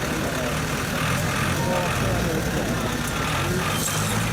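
Tractor engine straining through a boggy mud pit at an off-road tractor festival in Papradno, Slovakia, a steady loud drone under crowd noise and talk.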